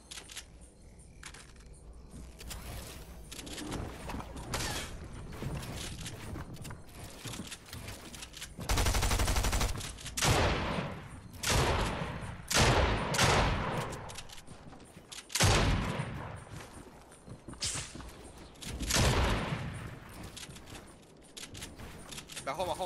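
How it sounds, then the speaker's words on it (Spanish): Gunfire rings out in an arena match of a shooter video game, with bursts of rapid automatic shots and sharp single reports scattered across the stretch, interleaved with excited players talking over the action. "Disparando, le dieron disparos de atrás."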